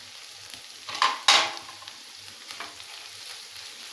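Ginger garlic paste sizzling and frying in a pan, with a couple of louder stirring scrapes near the start and a steady crackle throughout.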